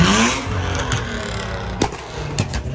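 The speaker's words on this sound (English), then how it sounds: "the M8 comp just pulled up" A BMW M8 Competition rolls up close by at a gathering of high-powered cars, its engine note rumbling steadily with a couple of sharp revs and clicks near the end, no talking.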